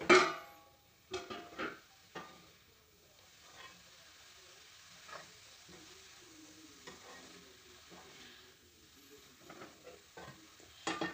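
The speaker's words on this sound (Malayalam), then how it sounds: "അതിലേക്ക് നമുക്ക് അരിഞ്ഞു വെച്ചിരിക്കുന്ന ചിക്കൻ സോസേജ് കൂടിയിട്ട് നന്നായിട്ട് മിക്സ് ചെയ്തെടുക്കാം" Chopped chicken sausage being stir-fried and mixed in a pan, with a soft hissing sizzle under several scraping, knocking strokes of a spoon against the pan, close by and sharpest at the start.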